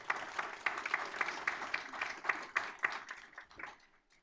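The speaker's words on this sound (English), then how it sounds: "Let's give all 65 of these students a big round of applause." An audience at a school board meeting claps for students, a modest round of applause heard somewhat distant and faint, steady for a few seconds and then tapering off.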